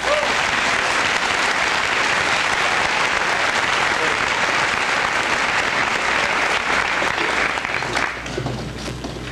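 A large audience at a high school senior assembly claps in a steady, dense round of applause that holds strong for most of its length and then tapers off near the end.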